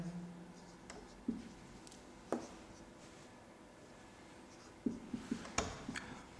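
Pen or marker writing a formula on a board, scattered scratchy strokes and sharp taps at irregular intervals, close and fairly quiet, with no talk.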